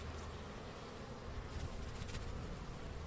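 Dense, continuous droning of many honey bees buzzing close up in a hive, a steady swarm-like hum with no pauses.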